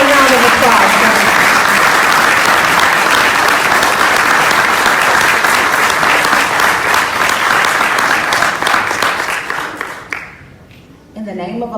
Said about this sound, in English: Bring her on with a round of applause, guys.